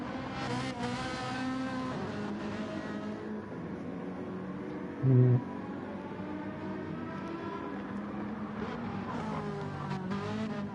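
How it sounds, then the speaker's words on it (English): Ferrari race car in a sim-racing league event at Interlagos, a steady engine drone with a brief louder burst as it comes through mid-clip, other cars audible throughout. "the Ferrari coming through"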